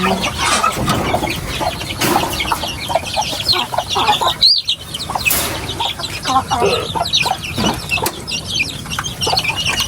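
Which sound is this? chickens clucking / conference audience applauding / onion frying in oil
chickens clucking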